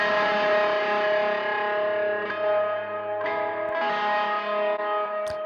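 Heavy distorted metal guitar chord from a song sent through a long reverb, sustained and ringing with a few sharp re-attacks and a wash of echoing tail, no talking.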